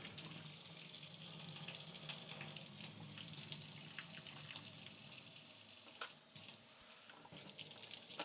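Tap water runs steadily for the final rinse of developed film, a soft, even splashing stream that dips briefly and resumes with slight gurgles.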